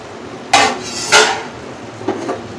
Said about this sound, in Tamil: ஸோ இந்த ஸ்டேஜில் லைட்டாக மட்டும் மிக்ஸ் பண்ணி விட்டுக்கலாம்